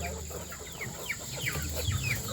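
Several chickens on a farm cluck and chirp in a steady, busy chatter over a constant background hum, sounding close by.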